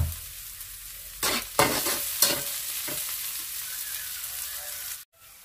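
Onion, garlic and squid sizzle and hiss in a pan for a spicy coconut-milk squid dish, with several sharp stirring scrapes and bursts, the frying steady and close before cutting off near the end.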